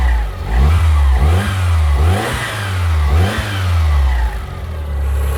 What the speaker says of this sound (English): I'll rev it a bit, see what it sounds like from the back.